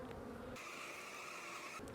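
Close, steady buzzing of honey bees at an open nucleus hive full of bees and brood, a dense droning hum that rises in pitch briefly as a bee passes near.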